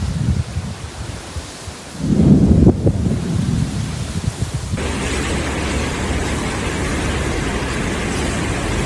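Hail and thunderstorm during a Texas storm, with a heavy rolling rumble of thunder swelling midway over a dense, steady hiss of falling hail and rain that continues loud to the end.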